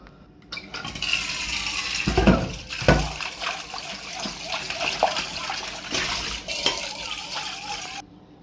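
Water poured or running from a tap into a pot so it can be boiled for a meal, an uneven trickling and splashing that lasts several seconds, with a person talking intermittently over it.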